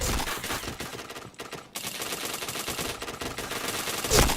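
Rapid automatic gunfire bursts from a shooter video game, dense and loud, with a brief lull partway through before the firing resumes steadily to the end.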